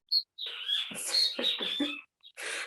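Birds outside chirp and twitter in a busy run of high calls, with a short isolated chirp before it and another brief burst after a pause, moderately loud and without speech.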